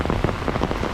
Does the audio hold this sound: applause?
no